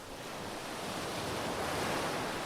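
Ocean waves wash steadily onto Dandi Beach on the Arabian Sea at sunset, a continuous broadband roar of surf with some wind, building slightly toward the end, with no voices.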